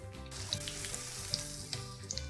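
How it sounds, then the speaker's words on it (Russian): Steady sizzling of cheese sticks frying in a pan, a continuous crackle with small pops, close by and with no talking. "Обжариваем до готовности."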